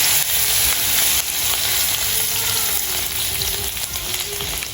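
Green chilies and garlic sautéing in a pan with red and garam masala, a loud, constant close-up sizzle and hiss with light stirring throughout.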